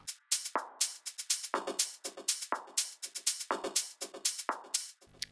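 Programmed electronic percussion from Battery and Ableton Live's built-in drum kits for a progressive house track, crisp sharp hits in a steady syncopated groove, loud and close with no voices.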